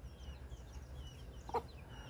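A single brief cluck from a chicken rises once, about three-quarters of the way through, out of a steady low outdoor rumble. The bird sounds fairly close, and the rest is quiet background.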